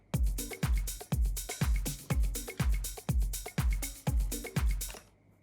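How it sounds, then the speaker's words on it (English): Disco drum loop built on a soft four-on-the-floor kick drum, evenly spaced thumps with hi-hat and snare hits, a steady repeating pattern played alone before cutting off. "So it's like typical disco clefs, soft kick drum"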